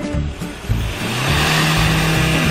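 A Hyundai Santa Fe CM engine revs under the accelerator during an emissions check, rising to a loud, sustained drone that holds steady near the microphone.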